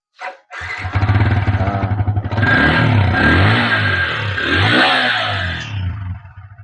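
A Honda Supra 125 motorcycle engine kicks into life after a brief click, then runs steadily with a rough, throaty idle and slight revving, close by.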